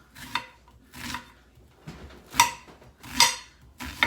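Cut bell peppers for sheet pan fajitas are set down one by one on a metal sheet pan, giving a series of close, light clattering taps and soft knocks in an irregular rhythm.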